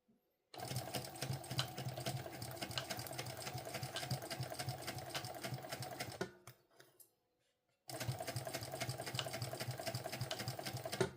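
A sewing machine fitted with a roller foot stitches a sling pouch in a fast, even run, pauses briefly in near silence, then resumes at the same steady pace.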